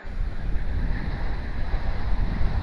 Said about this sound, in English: Wind is really strong.